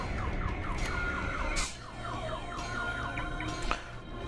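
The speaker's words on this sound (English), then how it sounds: "Thank you, wherever you are, who hit your car alarm." A car alarm wails in the F.E.A.R. 2 video game, its repeating rising and falling electronic whoops cycling steadily and fairly loud throughout, with brief bursts of other game noise layered on top.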